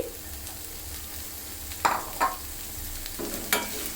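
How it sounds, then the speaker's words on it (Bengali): Onion, ginger and garlic paste frying with dried churi fish in a pan, a low steady sizzle with a few sharp stirring scrapes and clinks, close and fairly quiet. "এই দেখুন আমি পেঁয়াজ বাটা আদা বাটা একটু আর রসুন বাটা একটু দিয়েছি এখন এটাকে ভালো মতন কষিয়ে নেব"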